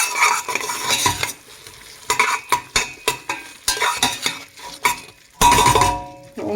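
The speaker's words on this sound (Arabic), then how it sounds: "ادي تقليبه." Spoon stirring vegetables frying in a pan for an Egyptian turly tray bake, with close, loud scraping strokes over a steady sizzle and irregular clinks against the pan.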